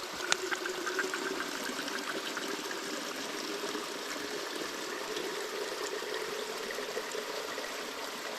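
Water trickles steadily from a squeeze water filter into a container at a backcountry campsite, a soft continuous flow that stays even and close with no talking over it.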